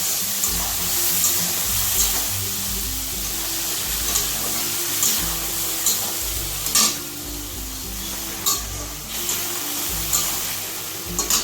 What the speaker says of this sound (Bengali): এখন একটু নাড়াচাড়া করে একটুখানি জল দিয়ে দিব কাঁচা কলাটা সিদ্ধ হওয়ার জন্য।